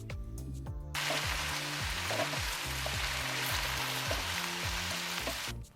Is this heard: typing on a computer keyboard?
no